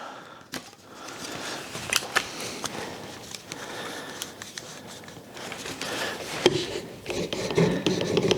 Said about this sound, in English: So I'm just going to flatten this base.